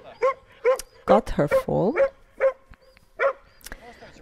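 A dog near horses gives a series of short, close yips and barks with a drawn-out whine in the middle, irregularly spaced, while a person speaks briefly.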